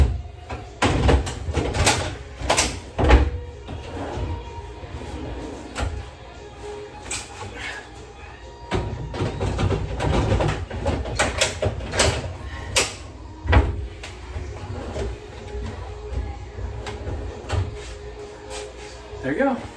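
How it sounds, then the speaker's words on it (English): IKEA kitchen cabinet drawers being fitted into white cabinets, with repeated knocks, clacks and sliding thumps of drawers and hardware in an uneven rhythm, close and fairly loud against room noise. "Just got to put the last couple drawers in"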